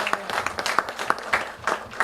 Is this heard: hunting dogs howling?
no